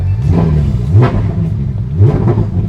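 A car launching hard through a loud aftermarket exhaust at a Kenyan rally show, a deep close rumble rising in two surging bursts of revving.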